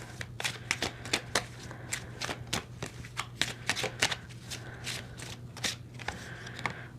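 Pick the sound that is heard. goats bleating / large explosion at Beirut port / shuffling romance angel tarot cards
shuffling romance angel tarot cards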